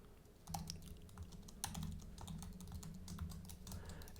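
Brisk typing on a computer keyboard while writing TypeScript code, with uneven bursts of close, crisp keystrokes and a few louder key hits, no voice.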